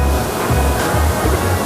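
Tad Mai Hia waterfall in southern Laos, a loud, steady roar of rushing water heard up close, continuous and dense with no pauses.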